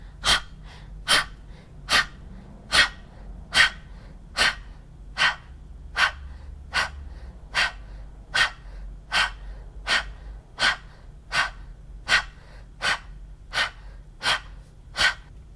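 A steady series of about twenty sharp, voiceless breaths pushed out in an even rhythm, close and breathy, with no voice behind them.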